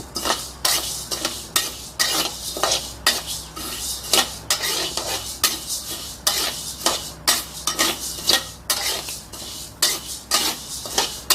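Sticky rice dry-roasted in a pan to make khao khua, toasted rice powder for a field-crab curry, with a repeated scraping, stirring rhythm of a utensil against the pan, close and steady with no talking.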